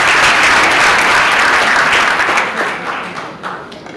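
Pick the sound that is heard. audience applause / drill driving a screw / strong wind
audience applause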